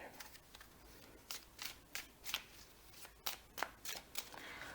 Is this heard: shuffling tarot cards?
yes